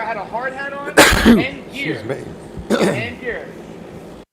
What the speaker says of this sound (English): Is that a sneeze? Bless you.